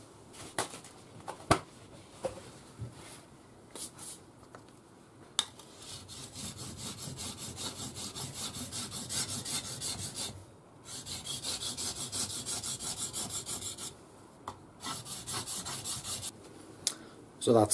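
Scandi grind knife being sharpened on a DMT fine diamond stone, long steady rasping strokes broken by short pauses and a few sharp taps, close and fairly quiet.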